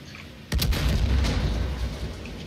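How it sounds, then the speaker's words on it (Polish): An explosion in the shooter game Far Cry: New Dawn goes off abruptly with a sharp blast, then rolls on as a loud, rumbling roar that slowly fades over the next two seconds. "Przed nosem mi to wybuchło, nie?"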